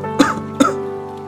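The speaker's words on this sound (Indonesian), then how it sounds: "Terdengar suara batuk dari dalam." Two short coughs inside a rented house, close and distinct, about half a second apart, followed by a faint lingering tone.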